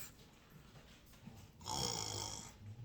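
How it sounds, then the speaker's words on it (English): Soft, close snoring, a low rasping inhale that swells into a louder drawn-out breath, heard alone over a hissy background. "Snoring."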